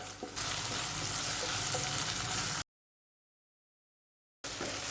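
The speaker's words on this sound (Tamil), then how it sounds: "இஞ்சி பூண்டு பேஸ்ட்டு போட்டு நல்லா வதக்குங்க." Onion sizzles and fries with ginger-garlic paste in a hot pan, a steady close crackling hiss that cuts out for a couple of seconds before resuming.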